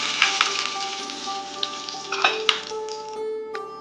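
Bay leaves and whole spices sizzle in hot oil in a pan for Bengali-style mutton curry, a steady close frying hiss with a few small pops and clinks of stirring.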